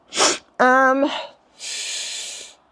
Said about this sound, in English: I do apologize for sniffing.